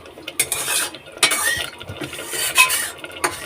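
Mutton being poured and scraped into a pressure cooker, with irregular metallic clanks, scrapes and knocks of a utensil against the pot, close and fairly loud, no speech.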